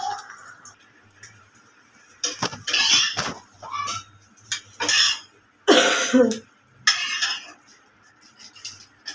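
Someone coughs a few times in a home kitchen while breakfast khichuri is being cooked, with clinks of cutlery and pans scraping between the loud, close bursts.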